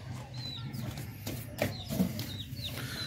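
Chicks chirping and fowl clucking while people chase and catch them outdoors, with high peeping calls over steady background noise and a few short bumps of movement.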